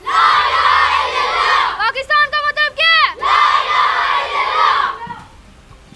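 A large Pakistani crowd roars the Takbeer slogan in loud unison. A single voice calls out between two long, massed shouts, then the chant fades into a lull.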